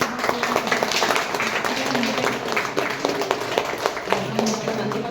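Care home residents clap for a child's fifth birthday, a lively burst of many hands applauding together at moderate distance, steady and sustained for several seconds without pause.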